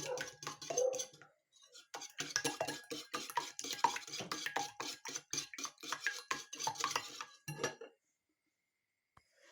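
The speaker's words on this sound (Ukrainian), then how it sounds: "Тепер беремо два яйця і збиваємо в такий глибоченькій мисці" A whisk clatters rapidly against a deep bowl while beating two eggs, a steady, rhythmic run of close clinks for several seconds, then stops.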